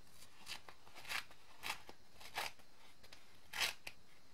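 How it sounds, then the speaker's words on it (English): A paper towel is torn in a series of quiet, short crisp rips, about seven or eight irregular bursts with soft rustling between them. "The art of paper towel tearing"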